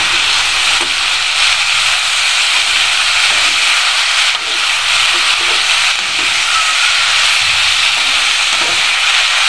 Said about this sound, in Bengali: এটা আমি কিছুক্ষণ তেলে সাঁতলে নেব